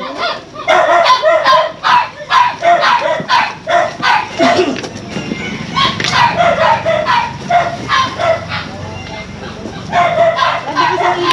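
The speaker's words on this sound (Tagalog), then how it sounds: "Dami aso." Several dogs bark in repeated bursts at close to mid distance in a rural Camarines Norte yard, overlapping one another, with people talking underneath and a rooster or other fowl faintly in the mix.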